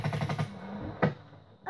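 Automatic gunfire in the video game Black Ops III, a rapid burst of about six shots followed by a single louder crack, close and loud, with no talk over it.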